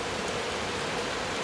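Steady rain falling in Clarendon, a continuous hiss of drops on surfaces close by, uniform and unbroken throughout.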